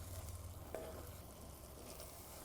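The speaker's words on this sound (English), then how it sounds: "You want to turn your heat down a little bit once you've gotten things sizzling in there." Butter sizzles steadily in a pan during outdoor winter cooking, a soft, continuous frying hiss with a faint clink of stirring, no voices.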